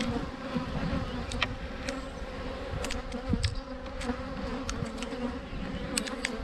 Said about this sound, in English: We've got our bees cleaning up some of the honey